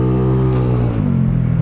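A small scooter-type motorcycle engine revs hard in a street race, a loud close buzzing drone that dips and shifts pitch midway as if changing gear, with wind noise throughout.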